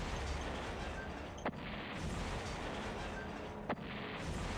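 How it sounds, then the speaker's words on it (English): Machine gun fire in the strategy game Shadow Empire comes as dense, rumbling, continuous battle noise with two sharp bursts standing out, heard under game audio with no talking. "they seem to have something that was shooting at us."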